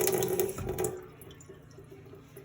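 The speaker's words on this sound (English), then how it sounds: "hold some Epsom salt in your hand and add a little bit of water to it" A small splash of tap water is poured onto a handful of Epsom salt held in a palm, a short trickling pour in the first second that then drops to a quiet drip and hush.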